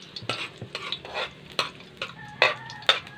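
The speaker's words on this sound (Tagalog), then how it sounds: "Lunod mo natin yung una, yung ahos o garlic" Garlic being sautéed in a pan for pancit guisado with seafood: a utensil scrapes and clinks against the pan in irregular strokes over a soft sizzle, close and moderately loud with no talking.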